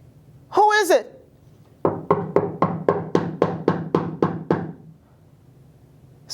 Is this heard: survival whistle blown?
no